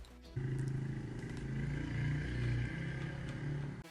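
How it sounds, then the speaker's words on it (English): A neighbor's motorcycle ridden in a backyard gives a steady engine drone with mild revving that swells and eases for a few seconds, holding at a moderate level before cutting off abruptly. "if you hear a revving of an engine in the background, it's because my neighbor is riding their motorcycle in their backyard"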